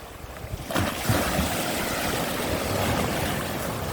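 Rough waves rush and crash against the coastal rocks at Adeulbawi in Jumunjin, Gangneung, under strong wind, a loud churning wash that surges in about a second in and then roars on steadily.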